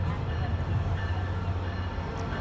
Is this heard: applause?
no